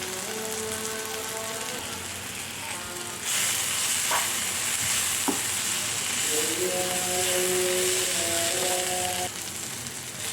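Ivy gourd frying in a pan with chilli, coriander, cumin and peanut powders, a constant hissing sizzle close by, with faint tonal hums and a brief louder surge partway through.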